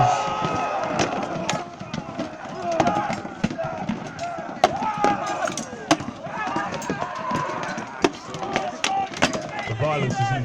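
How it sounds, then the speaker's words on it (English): Viking reenactment skirmish in Winchester, with shields, spears, swords and axes clashing against wooden shields: dense, continuous clatter of chopping thuds and sharp knocks amid a shouting crowd, loud and close throughout. "Shields slam against shields, spear against spear, swords hack down, and axes violently bite into the thick flesh of wood."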